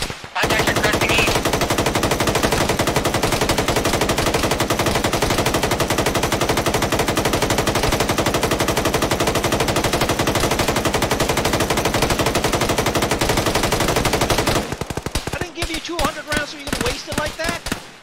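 Sustained machine gun covering fire in Arma, a dense, loud, continuous rattle of rapid shots lasting about fifteen seconds before breaking into scattered bursts at the end.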